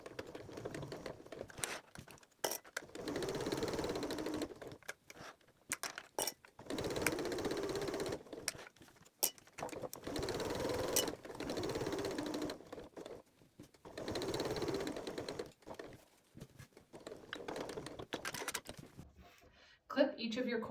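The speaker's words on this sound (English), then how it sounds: "sew all the way around the edges, leaving an opening at the end so we can turn it right side out" A sewing machine stitches around the edges of fabric for a KitchenAid cord keeper, running in bursts of rapid, close mechanical whirring that stop and start, while a voice talks between and over the runs.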